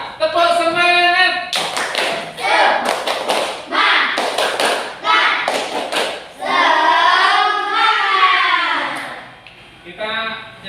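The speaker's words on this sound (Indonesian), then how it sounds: "Coba tepuk semangat." A class of standing children does a rhythmic cheer clap, with bursts of sharp hand claps in set patterns alternating with loud chanted voices, close and lively.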